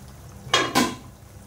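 A cooking pot lid comes off over a dish of spiced poached eggs, giving two quick metallic clanks a fraction of a second apart, close by and fairly loud against a quiet kitchen.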